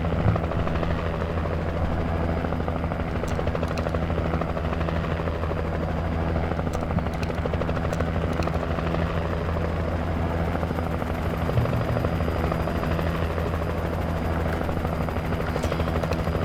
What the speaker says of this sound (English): Oh good, the helicopter's back.